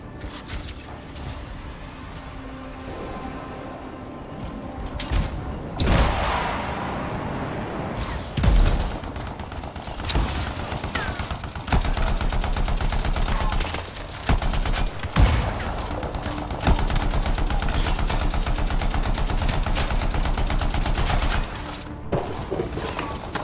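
Gunfire in Anthem as a Ranger Javelin shoots down turrets and outlaws: sustained loud volleys and bursts with some booming impacts, dense and continuous through most of the stretch.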